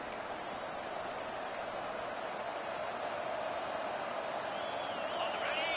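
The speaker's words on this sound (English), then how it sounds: "It is getting loud as this crowd tries to help its defense." A steady roar of a large college football stadium crowd in a video game fills the space, constant and fairly loud, with faint whistles and cheers rising near the end.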